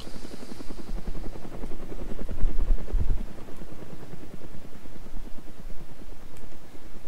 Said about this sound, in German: Ja, hier, der Heli kommt.